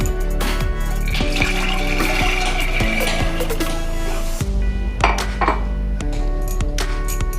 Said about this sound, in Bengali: এখানে আমি একটু পরিমাণ জল নিয়েছি। প্রথমে আমি ছোলা বুটগুলো দিয়ে দেব।